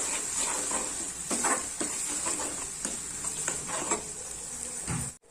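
Powdered spice masala fries in oil for a rustic bhogi vegetable curry, giving a steady soft sizzle with a high hiss. Light spatula scrapes and taps recur at irregular intervals, and no one talks.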